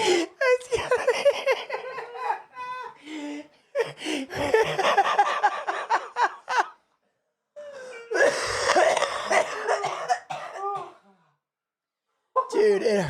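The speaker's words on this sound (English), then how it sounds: "it hurts to cough" A man with a sprained ankle coughs and laughs in fits, ragged wheezy bursts broken by short pauses, close by and mixed with talk and giggling.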